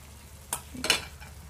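Pickled mustard greens with garlic are stir-fried in a pan, with two quick spatula scrapes and a soft sizzle over a brief, fairly close moment and no talking.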